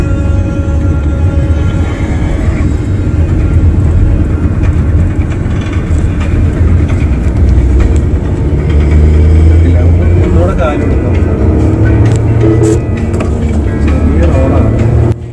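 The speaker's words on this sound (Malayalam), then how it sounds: "കേട്ട പോലെ നല്ല മനോഹരമായിട്ടുള്ള ഒരു എൻജിൻ നോട്ടാണ് നമുക്ക് വണ്ടിയിൽ നിന്ന് കിട്ടുന്നത്" A 2020 Tata Nexon BS6 facelift on the road, its engine and road noise forming a loud, steady, continuous rumble from start to finish.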